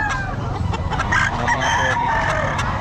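A gamefowl bullstag rooster crows loudly and close at a busy Bocaue pet market, its drawn-out call rising over dense crowd chatter and clucking from other fowl.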